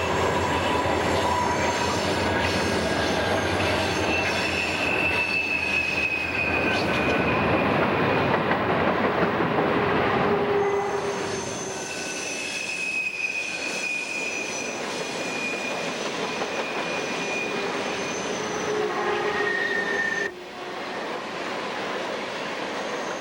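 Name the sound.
empty coal train drifting down grade on a mainline railroad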